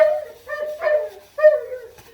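A dog in a kitchen gives a few short whining barks and yelps in close succession, up close and fairly loud, with no one talking over it.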